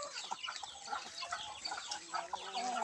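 Palawan native chickens, including a rooster, in a chicken house with young chicks cluck and chirp continuously at close range, with several overlapping calls and no talking.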